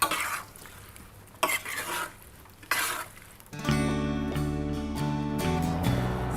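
A chutney mixture coated in rapeseed oil is stirred in a pan, giving several rough, scraping bursts close by. Music then takes over for the second half.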